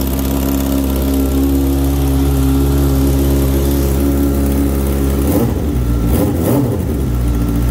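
A Honda CBR600RR motorcycle engine idles with a steady throbbing hum, then revs sharply twice near the end before settling back down.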